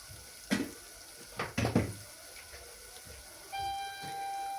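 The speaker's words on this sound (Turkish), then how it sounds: "Şimdi suyunu ilave yapacağım." Boiling water pours into a pot for a fresh okra stew seasoned with citric acid, tomato paste, black pepper and cumin, giving a steady close splashing stream after a few soft knocks.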